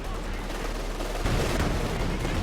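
Artillery barrage in a Company of Heroes 2 match, with long-range shells pounding a forward retreat point: dense, continuous rumbling blasts and crackling fire, loud and sustained, with a heavier burst midway.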